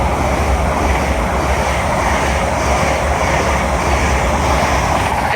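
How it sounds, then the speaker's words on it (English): An LNER Azuma train from Inverness to London King's Cross passes through Grantham station on the East Coast Main Line, a loud steady rushing rumble that holds for several seconds. "Pass through now is an LNER Zoomer from Inverness to London King's Cross."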